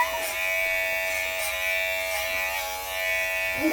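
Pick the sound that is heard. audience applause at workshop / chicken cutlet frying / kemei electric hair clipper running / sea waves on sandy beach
kemei electric hair clipper running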